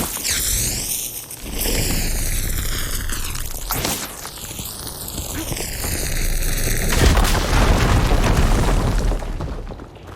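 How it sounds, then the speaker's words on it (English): A firegleam deposit blown up in Horizon Forbidden West, inside a dark cave, with a loud booming blast followed by crackling, rumbling debris and falling rock that rolls on for several seconds. "Should be able to blow up that fire gleam."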